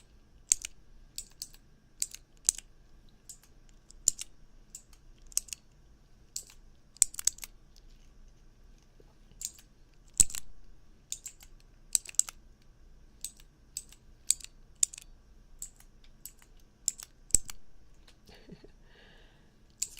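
Keyboard keycaps click and clack in sparse, irregular taps over a quiet room, close and crisp in an ASMR binaural setup, with no talking.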